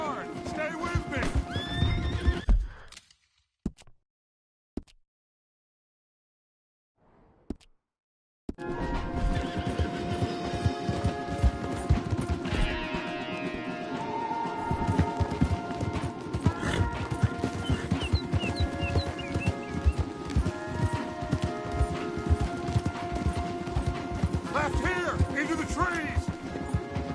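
Horses gallop along a trail in Red Dead Redemption 2, a steady rapid drumming of hooves with occasional whinnies, running continuously apart from a brief quiet gap, under bursts of character dialogue.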